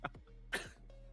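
A single sharp cough bursts out close to the microphone during a relaxed esports chat about Mobile Legends tournaments, followed by a quieter throat-clearing sound against a steady low hum.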